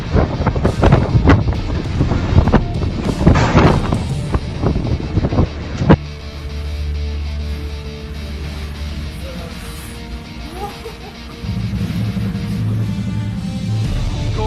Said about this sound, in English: There are some very, very big gusts.